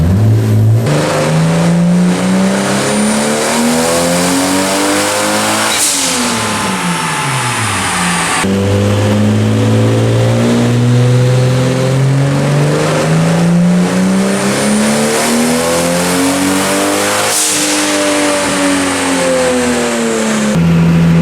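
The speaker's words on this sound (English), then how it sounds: "Are you tired of seeing dyno runs yet?" A 2JZ-swapped Mk3 Toyota Supra on a dyno under boost revs hard and loud, its engine pitch climbing steadily through the gears, dropping, then climbing again in continuous sweeping pulls with no talk.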